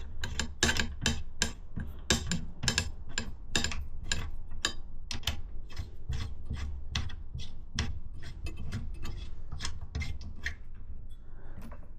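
Bolts on the clamps of a Yamaha WR125X motorcycle being nipped up by hand during a full rebuild, a steady run of sharp close ratcheting clicks repeating quickly for several seconds with no talk.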